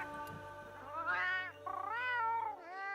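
Monster Hunter Wilds Palico voice lets out a short chirp followed by two longer, wavering meows, loud and close, with a low steady hum beneath and no speech.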